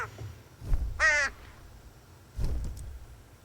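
Cartoon crows cawing in a few harsh calls, one loud drawn-out caw standing out, with scattered bird noise around it and no talking.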